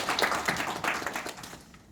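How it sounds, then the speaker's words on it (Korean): A small group claps briefly at a shareholders' meeting, a short patter of applause that fades out within two seconds. "박수 또 드립니다"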